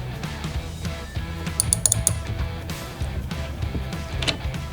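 A socket ratchet loosens the output jack nut on a Telecaster guitar, producing close, quiet repeated clicking and ratcheting bursts with short pauses and a few brighter metallic ticks in the middle.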